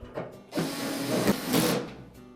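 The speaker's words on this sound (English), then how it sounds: "position it so that the screw holes line up with the blower housing, and then install those 4 screws" A power screwdriver runs in a couple of steady, close whirring bursts as screws are driven into the blower housing of a Whirlpool dryer, with no talking.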